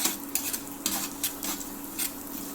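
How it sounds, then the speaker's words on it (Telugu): Black pepper and cumin seeds sizzle as they go into hot ghee in a pan, a close, crackling hiss with a few scattered pops and stirring scrapes, fairly soft and steady with no voices. "నెయ్యి వేడైంది. దీనిలోకి ఇప్పుడు మనము మిరియాలు, జీలకర్ర వేసేద్దాము"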